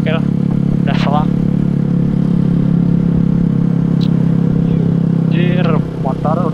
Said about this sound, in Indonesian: motor udah setelan kayak balap nih, motor kencang tapi ngendarainya santuy